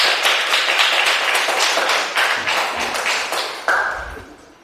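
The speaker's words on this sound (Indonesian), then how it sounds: "berarti tepuk tangan, silakan duduk kembali ya" Students in a classroom clap together in a burst of quick, irregular hand claps, fairly close and loud, with a few heavier taps near the end.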